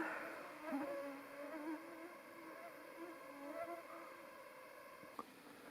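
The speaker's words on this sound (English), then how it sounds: "there's a few insects around, but I'm not sure if these mosquitoes or not. I don't think they are, but they're really loud." Buzzing insects hovering around seven feet up outside a cabin, a steady droning hum with a few wavering swells as they fly near, close and continuous, no voices.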